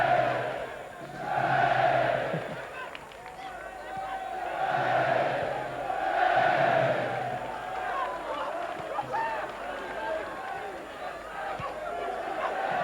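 Football crowd at a Chester City versus Dagenham & Redbridge Nationwide Conference match, rising in waves of cheers and roars as the home players touch the ball, distant and echoing, with a commentator talking over it.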